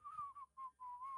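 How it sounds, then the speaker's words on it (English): Someone whistles a short tune softly, a few wavering notes broken by brief pauses, quiet and close. "just gonna start whistling"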